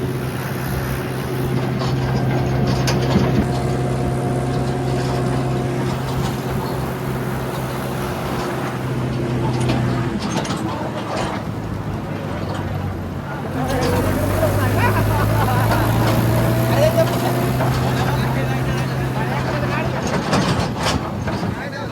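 A tractor hauling a trolley through the dark drones steadily with a low engine hum and harmonic whine, its pitch shifting midway, while people chat nearby throughout.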